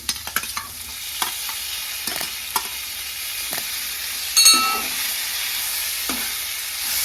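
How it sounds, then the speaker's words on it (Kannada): Tomato sizzles with onions in a hot pan, with a steady frying hiss and several sharp clicks of stirring scattered through it. "ಟೊಮೊಟೊ ಹಾಕ್ಕೊಂಡು ಒಂದು ನಿಮಿಷ ಫ್ರೈ ಮಾಡ್ಕೊಂಡಿದ್ದೀನಿ"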